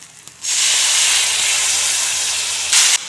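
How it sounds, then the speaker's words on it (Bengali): Tomato paste hits a hot pan of spiced ginger-garlic masala for an egg and potato chorchori, setting off a sudden loud, steady hiss of sizzling steam that holds for a few seconds and flares again at the end. "এখন দিয়ে দেবো টমেটো পেস্ট।"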